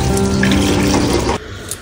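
Water pours steadily from a tap or hose while plants are watered in the morning, a continuous close splashing flow that cuts off abruptly near the end, leaving a quiet room.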